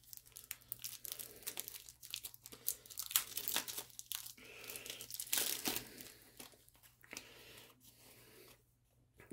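Cellophane wrapping being torn and crinkled off a deck of cards for the Point Blank V is for Victory card game, a close, continuous crackling with sharp rips and rustles over about nine seconds.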